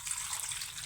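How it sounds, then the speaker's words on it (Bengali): Tap water runs steadily into a sink while papaya is being washed, a continuous close hiss with no talking over it. "এখন আবার ভালো করে ধুয়ে নিব।"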